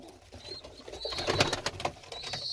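Tumbler pigeons in a loft coo softly and close by, while wings flap and rustle in a busy burst midway and thin high calls come and go.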